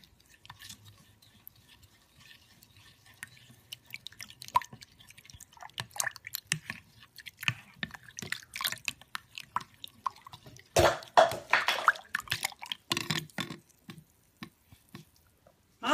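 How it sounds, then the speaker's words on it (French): Baker's yeast being stirred into milk, heard as soft, irregular liquid clinks, drips and squishes, close and quiet, growing busier and louder toward the end. "On va dissoudre la levure dans le lait."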